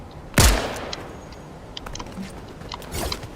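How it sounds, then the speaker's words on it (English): Video game gunfire: one sharp, loud shot cracks near the start, followed by faint scattered pops and mechanical clicks against a low background hiss. "Who is shooting at me, bro?"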